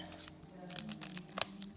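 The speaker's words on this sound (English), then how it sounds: "So I have some scissors opening up this here" Scissors snip open a plastic bag of glitter for a custom acrylic mix, giving a few quiet, crisp cuts and crinkles close by, with one sharper snip near the end.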